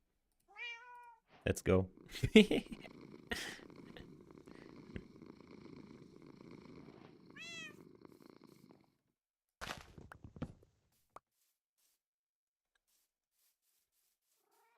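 A cat in a video game livestream gives a few short meows and then a long, low purr, with a person speaking briefly over it.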